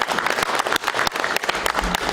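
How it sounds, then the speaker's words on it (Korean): An audience at an academic seminar on reunification applauds the panelists, with dense, sustained clapping and sharp individual claps standing out. "네 분께 뜨거운 박수를 보내주시기 바랍니다"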